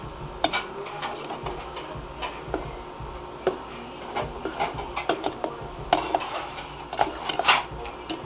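Bananas and sugar stirred in a pan while cooking toward a caramel, a spoon repeatedly clinking and scraping against the pan in irregular close taps and scrapes, with no talk.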